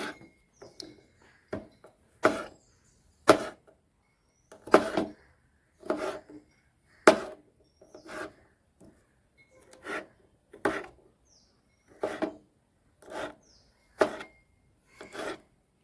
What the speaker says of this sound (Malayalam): ചക്ക ഇങ്ങനെ നുറുക്കണം ചെറുതായിട്ട് നമ്മൾ ഈ രീതിയിൽ നുറുക്കുക